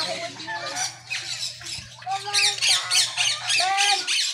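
A free-flying sun conure parrot squawks repeatedly in shrill bursts close by, mixed with overlapping children's voices and a low steady hum.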